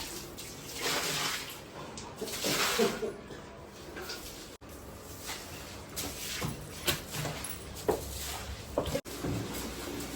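Water splashing and running while a house floor is washed by hand indoors, in irregular soft gushes and swishes with a couple of sharp knocks, with quiet talk faintly under it.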